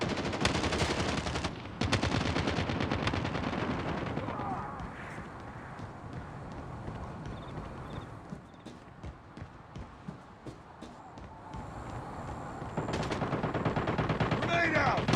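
Video game gunfire in a shooter, bursts of rapid automatic shots that start loud and near, thin out to scattered pops, then return dense toward the end, with a player shouting excitedly over the shots.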